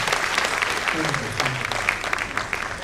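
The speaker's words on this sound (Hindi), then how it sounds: "सब तालियां बजाकर उनका स्वागत करें।" Audience applause welcoming a speaker at a national diabetes educators' summit, loud dense clapping throughout with voices mixed in underneath.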